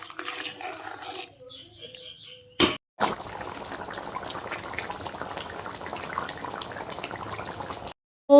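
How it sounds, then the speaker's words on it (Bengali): Water poured into a cooking pan of fried jackfruit and prawns, a steady liquid rush lasting several seconds after a quiet stretch, close and fairly loud, broken by a brief gap. "ভাজা হয়ে গেছে, এখন আমি জল দিয়ে দিচ্ছি।"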